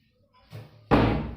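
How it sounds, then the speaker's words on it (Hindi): A home door being pushed shut, with a soft rattle of the door moving, then a firm, close slam that rings briefly. "फाइनली मैंने दरवाजा लगा दिया"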